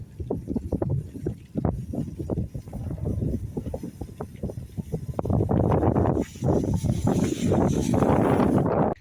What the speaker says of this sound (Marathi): एकतर वारं पण सुटलेलं आहे